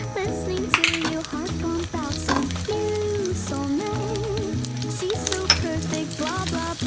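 Garlic fries in hot oil in a pan for beef ampalaya, a continuous sizzle with stirring clinks, partly buried under loud background music.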